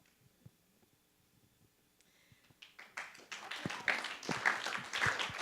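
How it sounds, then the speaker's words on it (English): Audience applause at a briefing on California's drinking water crisis, starting as a few scattered faint claps and swelling into a fuller burst of clapping in a hall. "I need you to be careful about how often you applaud"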